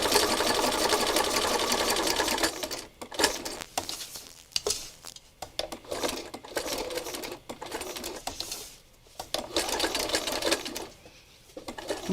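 A sewing machine runs a straight stitch in fast, loud bursts, whirring steadily then stopping and restarting several times in short runs.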